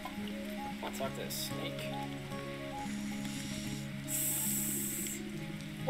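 A huge snake in the game Sumire gives short sharp hisses, one burst early and a longer one near the end, over a steady tonal music bed.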